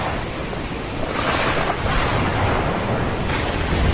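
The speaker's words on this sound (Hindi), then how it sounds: "बाहर बारिश की बूंदें लगातार टीन पर गिर रही थी" Steady rain drumming on an old tin roof of a village tea shop, a dense, continuous hiss with soft swells, close and fairly loud, no other sounds.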